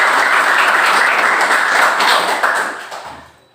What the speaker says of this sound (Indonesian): Ya, terima kasih, berikan aplaus.